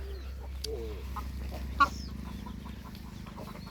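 Hens on a small farm flock of about fifty birds cluck softly and intermittently, a few faint calls over a steady low background hum.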